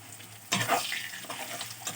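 Sizzling and stirring in a hot pan, with a burst of frying sound after a quiet start, continuing at moderate level.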